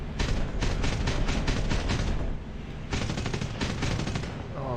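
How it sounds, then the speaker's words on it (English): Rapid machine-gun bursts crackle through War Thunder air simulation combat, loud and dense, coming in two long strings of rattling shots with a short gap between them. "let's avoid that gunfire"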